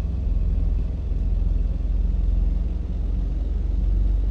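A truck engine in American Truck Simulator gives a loud, steady low rumble that holds evenly from start to end, with no voices over it.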